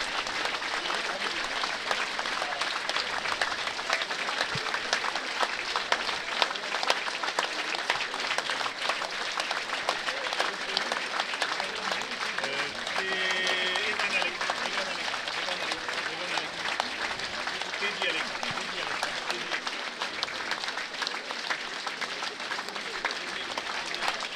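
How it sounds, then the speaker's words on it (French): Sustained applause from a crowd at a live event, steady dense clapping throughout, fairly loud and continuous with no pauses. "Et voilà pour cette minute d'applaudissements."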